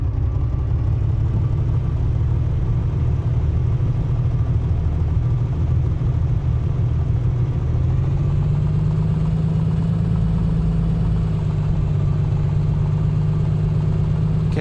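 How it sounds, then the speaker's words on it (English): A Piper PA-24 piston engine idles in Microsoft Flight Simulator 2024, a loud, steady low drone holding for the whole stretch with a slight rise in pitch partway through, no talking. "so that you can hear exactly what's going on with the engine"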